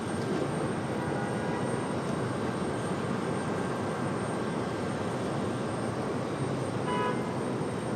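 A jet airliner, an Air France or Lufthansa heavy at Raleigh-Durham airport, gives off a steady broadband engine roar that stays constant and fairly distant for the whole stretch, with no talk.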